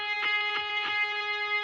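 A distorted electric guitar string is struck three times in a standard pick attack, each hit ringing over a steady sustained tone, close and fairly quiet with no talk.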